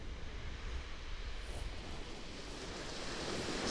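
Surf washes onto a shingle beach at West Bexington as a faint, continuous hiss and rumble, slowly building toward the end, with no voices.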